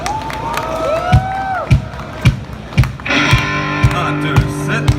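An audience at a Yongsan tragedy 10th-anniversary memorial event cheers and applauds to welcome a band, with loud whoops and steady rhythmic claps, then music swells in near the end.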